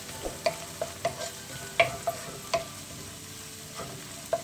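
Ingredients with small onions sautéed for chicken perattu: a low sizzle in a pan under regular scraping and clinks of a spatula, close and fairly quiet, with no talking.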